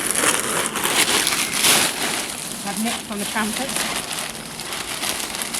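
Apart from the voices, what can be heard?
big plastic bag being handled and crinkled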